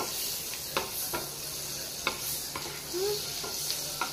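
Butter melts and sizzles in a pan over medium heat, a soft steady crackle. A few light utensil taps occur at intervals, close but fairly quiet, and nobody talks.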